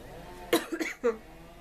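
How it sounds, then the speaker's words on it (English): Three quick, harsh coughs close to the microphone, rough and throaty, spaced unevenly over a quiet background. "But I am coughing,"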